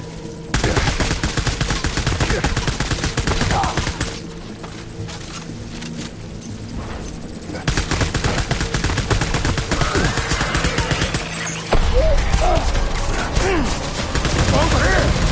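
Sustained rattling gunfire from enemy troops, a dense fusillade of rapid bursts and single cracks running throughout, loud and close, with a brief lull midway before the volley swells again; shouted voices appear among the shots.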